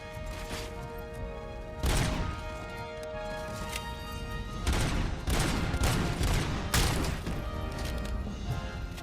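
Rapid gunfire from the video game RoboCop: Rogue City, loud sustained bursts of shots and impacts with game music tones running underneath throughout.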